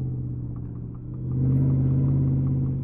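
Steady engine rumble inside a 1000hp Whipple-supercharged 2022 Ford F150 pickup on the road, a deep continuous drone that swells slightly as the engine pulls harder, heard from the cabin with no talking.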